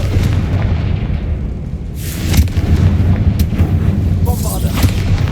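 A Confringo fire spell cast in the Hogwarts Legacy video game, heard as a loud whooshing burst and crackle over a dense, booming battle soundscape, with further sharp impacts following.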